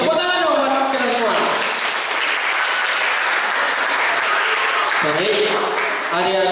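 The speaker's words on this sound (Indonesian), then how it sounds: "tepuk tangan dong buat kita semua" School audience in a large hall at SMP Negeri 10 Surabaya bursts into loud, sustained applause during a disaster-drill session. A speaker's voice comes before the clapping and returns near the end.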